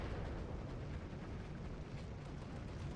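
Off-map 210mm artillery shells hitting in the Steel Division 2 strategy game, a heavy, continuous low rumble of blasts and debris rolling on for the whole stretch without any voices.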